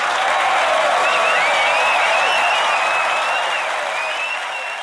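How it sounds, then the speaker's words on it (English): A crowd cheers and applauds in a dense, steady roar of clapping with whistles and whoops over it, loud and continuous throughout and easing slightly toward the end. "And the crowd goes crazy."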